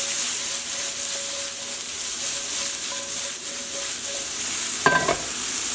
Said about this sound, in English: Give it another shake.